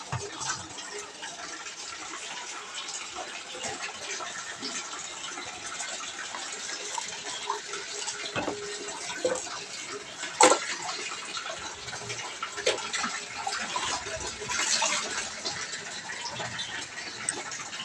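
Water pours steadily from a tap as a child's face is washed at home, a continuous close splashing rush with a few brief louder splashes.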